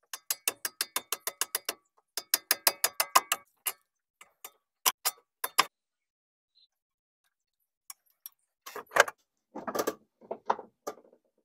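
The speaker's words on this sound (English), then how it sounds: "removing the last nut on the top that is holding it from falling" A ratchet wrench removing the strut top nut on a Toyota Camry front shock: quick, crisp, evenly spaced clicks in two bursts, then slower single clicks and a few clunks of handling, close and otherwise quiet.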